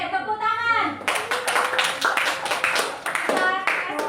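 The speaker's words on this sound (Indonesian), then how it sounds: "Oke, tepuk tangan." A fifth-grade class claps hands together in quick, uneven bursts for a few seconds after a lesson on the food chain, with children's voices mixed in.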